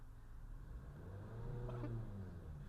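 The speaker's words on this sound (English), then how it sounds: "So hit the gas just a little bit." Engine of a manual-transmission car revving gently as a learner driver eases onto the gas, a low steady drone that rises slightly in pitch midway, faint and heard from inside the car.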